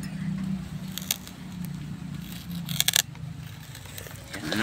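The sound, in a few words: plastic sheet being handled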